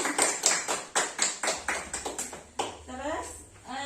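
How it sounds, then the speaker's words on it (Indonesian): Audience applause at an Indonesian training session plays as a series of sharp, slightly uneven claps under a voice talking over them, and it fades out after about three seconds. "Berikan tepuk tangan untuk Bu Jumina"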